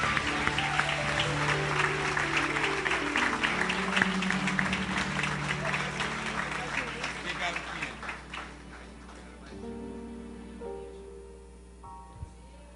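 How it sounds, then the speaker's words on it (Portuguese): Church congregation applauding together during a worship service, a steady wash of many hands that gradually thins and fades toward the end, with voices underneath. "Dá uma salva de palmas para o Senhor Jesus."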